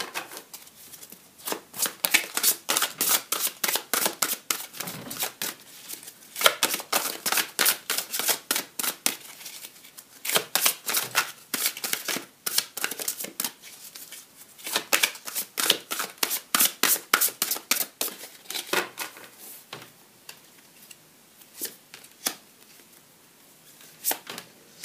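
Oracle cards are shuffled over and over, a dense, crisp riffle of snapping cards repeated in bursts with short pauses, close and fairly quiet, with no voices.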